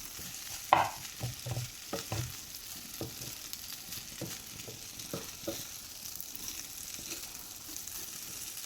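Semiya upma with roasted egg stirred in a pan, a low sizzle beneath irregular spoon scrapes and taps, one sharp clink near the start, then steady quieter stirring.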